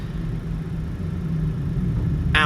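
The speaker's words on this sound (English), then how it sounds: "Right, we're going to do engine sounds" Boeing 737 jet engines of the PMDG aircraft in Microsoft Flight Simulator, a steady low rumble and whir holding at an even, moderate level throughout the short stretch.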